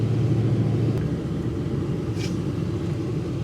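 A slammed dually pickup truck with rear helper bags drives while towing, heard from inside as a steady, loud low engine and road rumble with no break.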